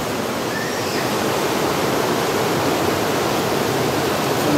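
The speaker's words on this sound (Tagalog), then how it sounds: "yan po yung ilog" River water of Ilog Iyam flowing steadily in Tayabas, a constant dense rushing hiss like a small cascade, close and even throughout with no voices.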